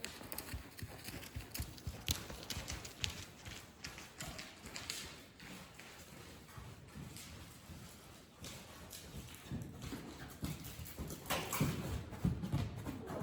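A horse canters under a rider during a schooling session, hooves drumming on the ground in a quick, continuous three-beat rhythm at moderate distance, with some faint background noise and no talk.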